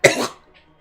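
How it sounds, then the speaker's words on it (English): A single sharp, close cough from a person irritated by dust after hoovering, bursting out loudly and fading within half a second into quiet. "Minus a bit of coughing, but I'm all right."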